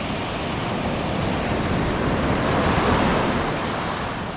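Waves break on a rocky beach along a wild coastline, a loud, steady roar of surf that swells gently and then eases slightly, with no voices.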